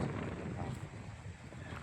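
Steady, heavy wind buffeting the microphone with a deep continuous rumble and roar, unbroken for the whole stretch, with no voices.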